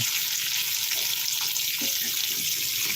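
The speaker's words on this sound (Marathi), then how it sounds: "तू काय फ्राय करतोस ते मासे" Fish fry in a hot pan in a home kitchen, giving a steady, bright sizzle that holds without a break, close and fairly loud, with no voices.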